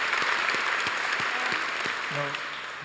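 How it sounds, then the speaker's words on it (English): Audience applause fills a graduation ceremony hall, a dense, steady clatter of many hands clapping throughout, with a voice briefly heard speaking over it near the end. "We're just giving you an applause."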